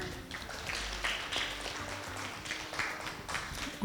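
Audience at a business advisory panel discussion gives Regina a round of applause, a faint, steady patter of many hands clapping in a large room, with no talking over it.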